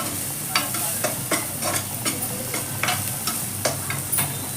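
Slit green chillies fry in a pan for butter chicken fry, giving a steady sizzle broken by a series of sharp stirring scrapes at an irregular rhythm, close and fairly loud.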